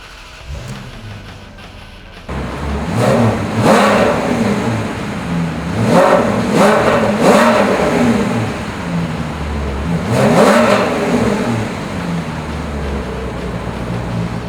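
A 2006 Maserati Quattroporte engine cranks and catches at once, then settles into a deep idle broken by several loud revs that rise and fall.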